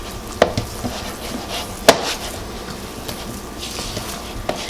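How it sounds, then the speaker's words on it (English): Little pieces of sweetener stirred around in a bowl, a soft scraping and tapping with a few sharper knocks of the spoon against the side, close and irregular, no voices. "I'm still getting my little pieces of sweetener all stirred around."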